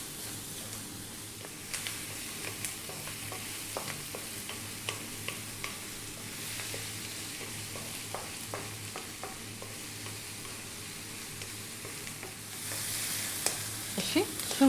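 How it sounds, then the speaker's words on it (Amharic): Sausage frying in a pan with onion and garlic for an Ethiopian rice dish, a steady close sizzle broken by scattered clicks and scrapes of stirring, louder crackling near the end. "ሶሴጃችን እየተጠበሰ ገና ይቀርባል።"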